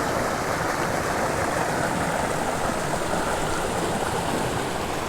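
A flowing mountain creek where brook trout are fished, its water rushing in a steady, close, broadband wash with no voices throughout.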